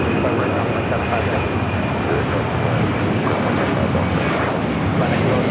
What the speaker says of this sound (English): This is Latam Cargo 325 taking off to Quito